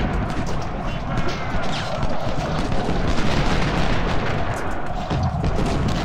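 Artillery and musket fire in an Ultimate General battle at First Bull Run, heard as a dense, continuous din of distant booms and crackling shots blending into a loud, steady roar with no clear gaps.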